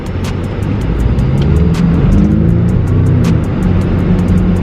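The 2-litre engine of a new Land Rover Defender on the move: a loud, steady drone from inside the cabin with a faint rising whine, plus light periodic ticking from the road.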